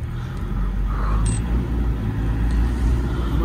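A car engine labouring up a snowy hill road, a steady low rumble heard from inside the vehicle with slight swells in level, plus a brief faint click.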